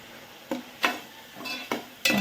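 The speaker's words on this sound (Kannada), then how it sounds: "ಮಸಾಲ ಫುಲ್ ಫ್ರೈ ಆಗಬೇಕು." Ground masala frying in a pan for South Indian okra (bendekaye) saaru, heard as five sharp, close stirring scrapes spaced apart over a faint sizzle.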